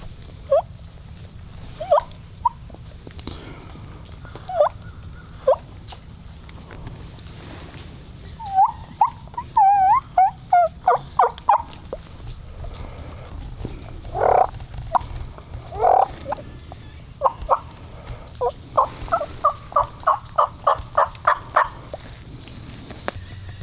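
Wild turkeys gobble repeatedly at a distance in a Florida woods during a spring hunt, rattling bursts recurring throughout, joined by frog croaks and an insect hum in the background.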